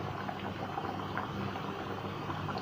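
Beans boiling in a pot, a soft continuous bubbling and gurgling with small pops, heard close and fairly quiet, with no talking.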